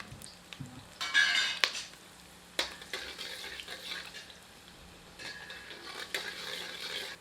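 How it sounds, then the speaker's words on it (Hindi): Sliced garlic sizzles softly in hot oil, frying until golden, while a utensil stirs and scrapes the pan, with intermittent clinks; close and fairly quiet, no talking. "इन्हें सम्मिलित कर सुनहरा होने तक भून लेते हैं।"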